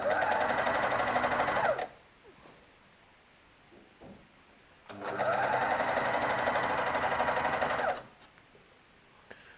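A household sewing machine stitches hemp fabric in two steady, loud, close bursts of about three seconds each, with a quiet pause of handling noise between them.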